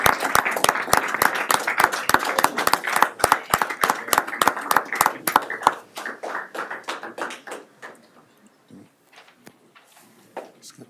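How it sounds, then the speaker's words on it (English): A room of attendees at a town council meeting claps for honorees, a dense burst of applause that thins out after about six seconds into scattered, fading claps. "if we could give them a round of applause"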